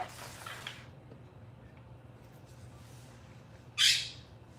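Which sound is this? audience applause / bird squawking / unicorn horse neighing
bird squawking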